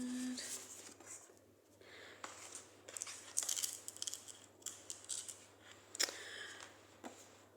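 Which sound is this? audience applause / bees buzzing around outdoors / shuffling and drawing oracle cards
shuffling and drawing oracle cards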